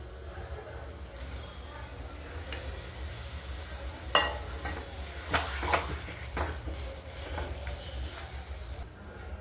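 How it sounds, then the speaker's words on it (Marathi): Half a kilo of washed chicken pieces sautéed in a hot spice tempering, with a steady broadband sizzle and a few sharp clinks and scrapes of stirring around the middle. "ते आता आपण फोडणीमध्ये ॲड करूयात आणि छान परतून घेऊयात."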